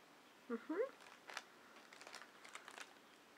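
A cat chewing a pistachio, with a few soft crunches and crackly bites up close, faint overall, followed by quieter scattered chewing clicks.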